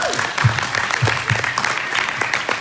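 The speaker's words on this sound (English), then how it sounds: "massive round of applause for our guests" An audience at a Pride in Politics panel discussion claps for the panel guests, a dense, steady round of applause from a room of people, with some faint voices mixed in.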